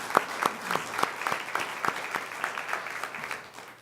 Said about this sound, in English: I think these guys deserve a round of applause for everything they've done.